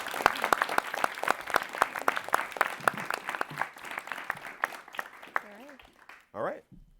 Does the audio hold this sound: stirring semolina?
no